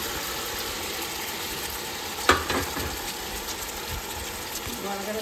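Cooked mutton for biryani stirred and fried in a pan: a continuous low sizzle with one sharp clatter of a utensil partway through.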